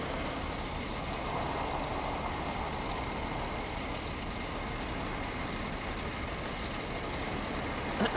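A truck engine idles at a traffic light, a steady, continuous low rumble with a broad noisy wash that stays even throughout, with no voices.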